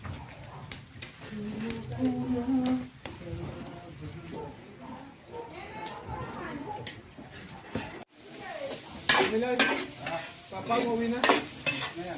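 Rendered pork fat fries in a pan with a steady sizzle and scraping stirs, while a person talks over it and doves coo in the background of a rural home.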